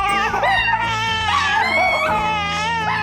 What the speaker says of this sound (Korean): 뿌꾸도 따라서 하울링을 하는 건데요.